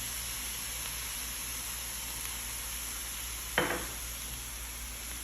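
Tomato and hot chili stirred in a hot pan, a steady hissing sizzle running throughout with one short louder scrape of the spoon partway through.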